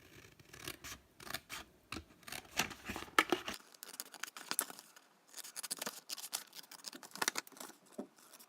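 Scissors cut through paper card for a folding exploding box craft, with close, uneven snipping, scratching and rustling that pauses between cuts.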